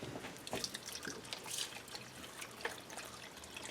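Beef broth being poured into a Ninja Foodi pot for a caramelized onion beef stew, heard as a faint, steady liquid trickle and splash with a few soft drips, close and quiet, with no talk.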